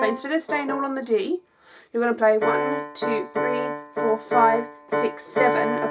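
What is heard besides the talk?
No everyday noise stands out behind the speech.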